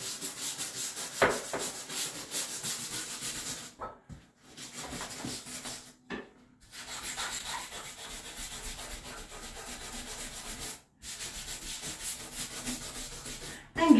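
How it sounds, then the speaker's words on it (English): Bathroom tile grout is scrubbed with cream cleanser, giving close, rasping back-and-forth rubbing strokes that run steadily for about fourteen seconds with a few short pauses, and no one speaking. "Give it a good old scrub."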